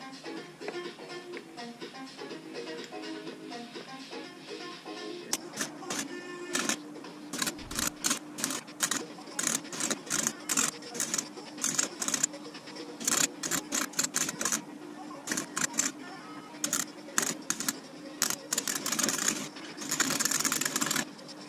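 Welding a chain onto a piece of metal to build an oil filter spanner, with rapid irregular crackling bursts and sputters, close and fairly loud, starting steadier and becoming choppy stop-start arcs.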